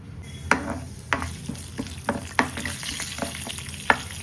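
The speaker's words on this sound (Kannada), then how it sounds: "ಇಷ್ಟು ಪ್ಯಾನ್ನಲ್ಲಿ ಆಯಿಲ್ ಹಾಕ್ಕೊಂಡಿದ್ದೀನಿ. ಸ್ವಲ್ಪ ಬಿಸಿ ಆಗಿದೆ. ಸಾಸಿವೆ ಹಾಕ್ಕೊಳ್ಳಿ, ಸ್ವಲ್ಪ ಹಿಂಗು, ಕಡಲೆಬೇಳೆ, ಉದ್ದಿನಬೇಳೆ ಒಂಚೂರು." Mustard seeds, asafoetida, chana dal and urad dal sizzling in hot oil in a pan, a close steady hiss broken by sharp pops and stirring taps at irregular intervals, no talking.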